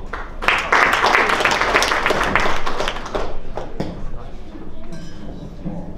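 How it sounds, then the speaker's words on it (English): Audience applause fills a wine conference dinner room as the head chef is welcomed, a dense burst of clapping mixed with clinking glasses and cutlery, easing off toward the end as the room quiets. "Applause to welcome."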